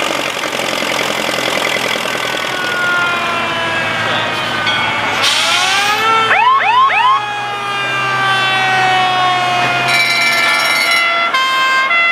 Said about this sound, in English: with a parade around the main arena to show off their horns and, in this case, bells and sirens.